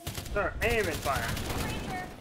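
Rapid gunfire rattles through a co-op session of the video game Earthfall on Xbox One, as continuous shooting heard beneath a player's talk and in-game voices.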